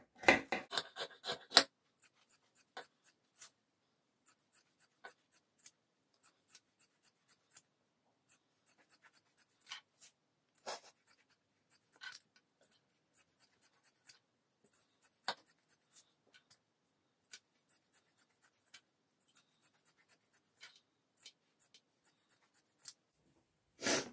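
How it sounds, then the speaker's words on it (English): Scissors cut old denim jeans into strips in quiet, scattered snips and small scrapes, a few sharper cuts at the start and the end, all close and faint with no talking. "So then you just literally cut all the way up through the leg, cutting all of the strips."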